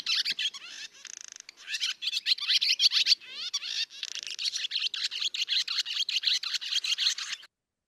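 A barn swallow's rapid twittering warble, a fast run of high chirps, buzzy trills and squeaky notes delivered continuously and fairly close.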